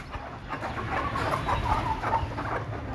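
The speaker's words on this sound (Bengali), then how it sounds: "এখানেও কিছু মুরগি আছে।" Native chickens clucking inside a dark coop in the evening, a steady murmur of soft clucks from several birds, fairly close and continuous, with no talk over it.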